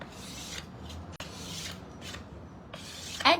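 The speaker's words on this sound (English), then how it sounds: "the scraper actually just helps so that that graininess actually gets revealed" A scraper rubbing across painted wood grain, soft dry rasping strokes repeating close by, quiet and alone, ending in a brighter scratch.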